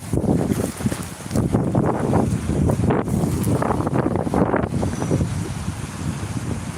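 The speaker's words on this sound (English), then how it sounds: "It's getting windy right here, boy." Strong wind buffets the microphone in heavy, gusting rumbles, loud and continuous with no voices.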